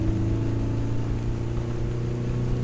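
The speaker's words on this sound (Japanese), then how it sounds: "BGM よりも車の音すごいですね" Steady low rumble of a car engine in the video game I Am Bread, apparently a garbage truck, droning at constant level throughout with no talk.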